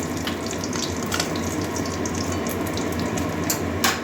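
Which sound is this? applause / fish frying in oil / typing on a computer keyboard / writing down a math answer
fish frying in oil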